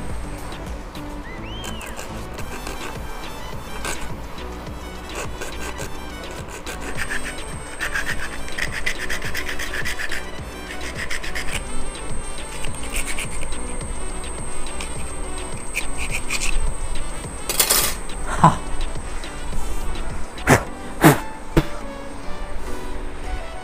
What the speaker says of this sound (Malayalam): നമുക്ക് ഈ സാധനത്തിനെയും കൂടെ ഒന്ന് കട്ട് ചെയ്ത് നോക്കാം.